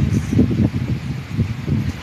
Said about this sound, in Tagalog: Oh, mahangin guys. Mahangin yun.